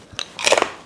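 A crunchy microwaved potato chip seasoned with kosher salt gets bitten close to the mic: one small crisp snap, then a louder cluster of brittle crunches as it breaks apart, with no talking.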